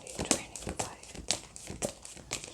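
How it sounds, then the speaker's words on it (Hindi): A deck of tarot cards is shuffled by hand, giving soft, quick papery riffles and slaps in irregular bursts, close and quiet. "चलो मैं ऐसे ही शफल करती हूँ।"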